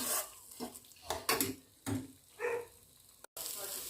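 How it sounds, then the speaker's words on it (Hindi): Mutton keema masala frying in oil in a home kitchen, with a steady sizzle broken by several sharp bursts of spoon scraping and stirring against the pan. "मसाला में तेल छूट रहा है।"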